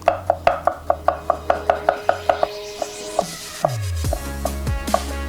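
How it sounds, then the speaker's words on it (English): Mushrooms finely chopped with a knife on a board, a fast even run of crisp close knocks that slows into scattered heavier taps near the end, no talking. "But first, we need to finely chop our mushrooms."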